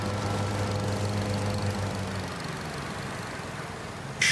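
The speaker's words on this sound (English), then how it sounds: "Shutting this tractor down." A tractor engine idles steadily at low volume in Farming Simulator 25, a constant low hum and rumble with no talk, and it ends on a short sharp click.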